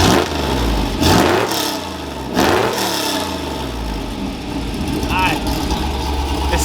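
A cammed Ford Mustang Foxbody with a custom exhaust idles with a lumpy, choppy note and blips into two sharp revs, while people talk nearby.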